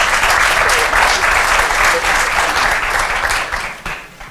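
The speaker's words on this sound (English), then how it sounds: "Can we give Dr. Dukes another round of applause?" Loud, dense applause from an audience at a summer youth program information session, sustained clapping close by that tapers off in the final second.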